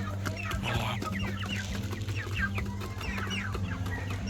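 Chickens cluck continuously at close range, overlapping clucks and short squawks over a steady low hum, with no talking.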